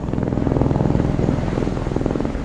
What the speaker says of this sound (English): Oh, they got helicopters from Halo.